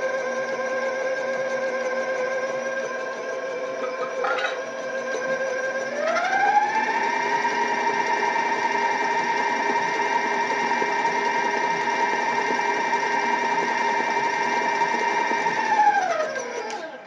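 An electric mixer creams key lime pound cake batter: a steady motor whine rises in pitch as the speed increases, holds evenly for about ten seconds, then winds down, close and loud, with no speech.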